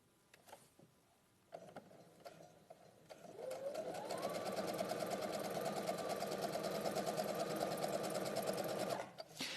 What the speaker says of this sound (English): I'm actually going to sew on the line.